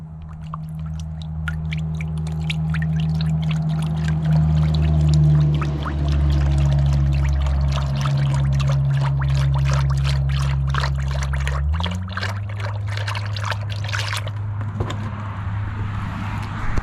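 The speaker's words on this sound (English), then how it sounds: "let me dump the oil in this" Used engine oil, heavily thinned with gasoline, pours out of a container into a drain pan in a steady, loud glugging stream that shifts pitch as it flows, then trickles and stops near the end.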